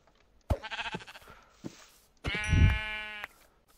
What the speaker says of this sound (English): Come here, Mr. Sheep.